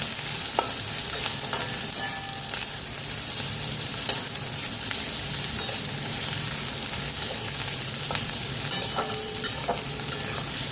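Capsicum stir-frying in a pan for veg noodles gives a steady close sizzle with repeated scraping and clinking of the spatula against the pan, and no voices.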